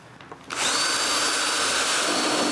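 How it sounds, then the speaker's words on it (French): A power drill drives screws into cedar boards of a patio table, starting after a short quiet moment and then whirring loud and steady close by until the end. "Je visse aussi une vis au centre de chaque planche."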